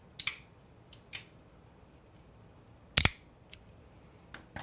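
Winterblade folding knife opening mechanism giving sharp, close metallic clicks in a few separate bursts, some doubled, with quiet pauses between and no speech.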